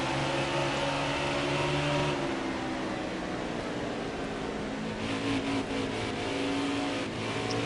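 A race car engine in a racing video game drones loud and steady as the car pulls away, its pitch holding with slight rises and shifts, with no voices over it.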